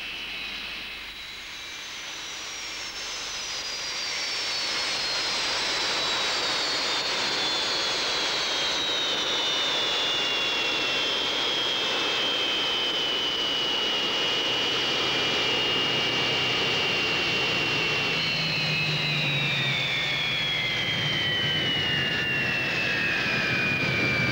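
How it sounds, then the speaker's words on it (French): A military jet aircraft with mechanical trouble roars in to land, a loud sustained whine with a slowly falling pitch that fills the whole stretch without voices. "Un de vos appareils a des ennuis mécaniques. Numéro 57, Major Clark."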